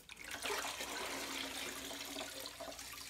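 A janitor's mop is rinsed out under running water, a steady close rush of splashing liquid that continues evenly for a few seconds.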